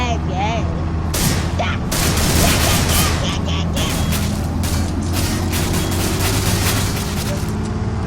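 Video-game gunfire crackles in repeated bursts and booms over a constant loud background, with overlapping chatter from players.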